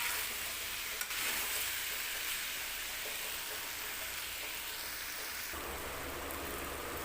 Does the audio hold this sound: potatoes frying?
yes